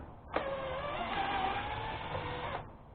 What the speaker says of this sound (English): need an Allen key, in this case a connection up to my ratchet, and remove